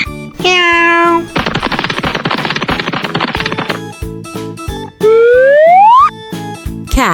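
A pet cat gives two drawn-out meows, the first steady and the second sliding upward, separated by a stretch of busy rhythmic music that carries on quietly beneath.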